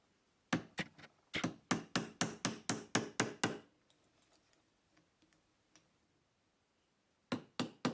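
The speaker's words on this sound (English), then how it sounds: "Using the rawhide hammer again, place it right on the edge of the bench block so you can tap open the leaf." A rawhide hammer taps open a folded copper leaf on the edge of a bench block: a quick run of about a dozen sharp, close knocks, a pause with faint scattered ticks, then a few more taps at the end.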